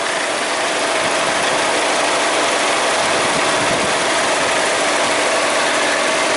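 A 2003 Mazda Protege idles roughly with a misfire, its engine bucking and chugging in a steady, uneven rumble heard up close with no talking.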